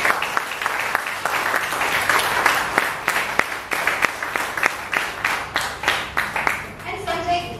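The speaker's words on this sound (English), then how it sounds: "So let's have a big round of applause." Applause from a family audience at a Toastmasters club's 100th meeting, dense steady clapping for several seconds with some distinct claps standing out and a bit of voice near the end.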